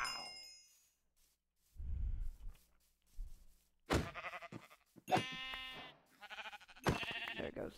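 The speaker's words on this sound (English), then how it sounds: "There goes that black sheep." Sheep in the Minecraft video game bleat in several short, clear calls, mixed with soft game sounds and a few quiet pauses.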